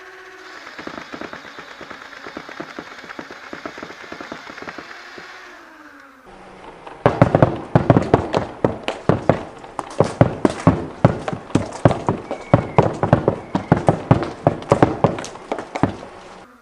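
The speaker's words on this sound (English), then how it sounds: "I think that's the fastest I've ever unloaded 70 darts like that, just because I didn't have to reload to do it" A modified double-barreled Nerf blaster with dual flywheel cages whirs and clatters as it fires foam darts. A steady rapid burst is followed by a louder, faster stream of sharp thumping shots.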